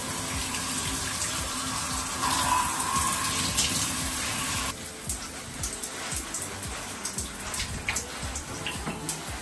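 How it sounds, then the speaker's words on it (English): Water running steadily from a tap while shampoo is rinsed out of hair, a loud continuous rushing splash that changes character midway as the stream shifts, no talking. "And I just wash out my hair."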